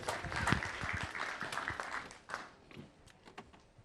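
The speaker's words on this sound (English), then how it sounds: "Ladies and gentlemen, give him a round of applause." Audience applause at an NFT conference in New York for a speaker from FIO Protocol, a moderate patter of clapping that peaks early and thins out toward the end.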